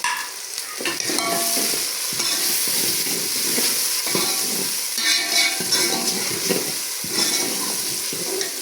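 Steady loud sizzling of chopped tomatoes frying in a pan, with a spoon scraping and stirring at intervals throughout.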